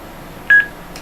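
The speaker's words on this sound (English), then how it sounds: "Now that's connected, you'll hear an audible beep and the light disappears." A Luxa2 Groovy portable Bluetooth speaker sounds a single short, clear electronic beep as it finishes pairing, standing alone over a quiet room background.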